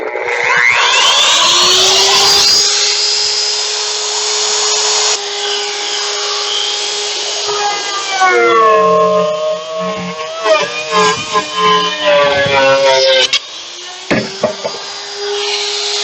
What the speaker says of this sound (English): So there's one router cut out.